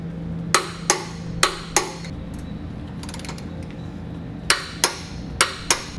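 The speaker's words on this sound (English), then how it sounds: "we're going to torque all of our hardware down to the specified amount in the instructions" A torque wrench clicks as it tightens the mounting bolts of a Curt Class III custom-fit trailer hitch receiver on a 2018 Cadillac XT5, giving sharp metallic clicks in two clusters of four separated by a quiet pause, with no talking.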